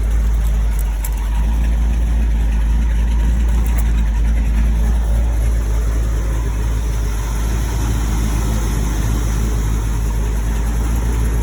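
A 1974 Scout SS2 clone's engine runs at a steady idle, a loud, constant low rumble with a mechanical chatter on top and no voices.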